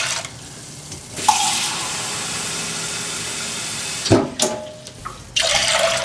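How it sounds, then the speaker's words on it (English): Hot water runs from a tap into an ultrasonic cleaner in bursts, a hissing rushing stream that starts and stops several times with short pauses and clunks between. "to put the hottest water we can in there."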